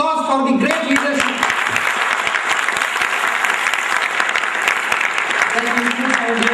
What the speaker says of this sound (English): So can you have a loud applause for the great leadership?